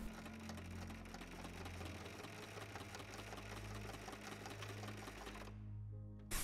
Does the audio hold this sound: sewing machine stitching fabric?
yes